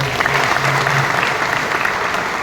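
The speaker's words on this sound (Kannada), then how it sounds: "ಅವರಿಗೆ ಜೋರಾದ ಚಪ್ಪಾಳೆ" An audience at a public event applauds the inaugurating guest, a steady, full wash of clapping from many hands that holds evenly at a fairly loud level from start to finish.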